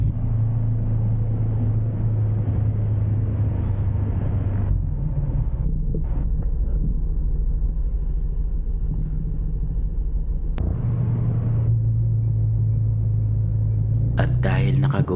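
A motorcycle taxi rumbles through heavy rush-hour traffic toward EDSA, a low steady engine hum with wind buffeting the microphone, dropping briefly and resuming, with someone talking over the ride.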